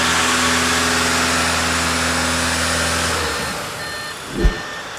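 An Audi engine with a 0AW CVT automatic transmission is held at a steady 2,000 RPM, a close, even hum that drops away after about three seconds, ending with a short low thump.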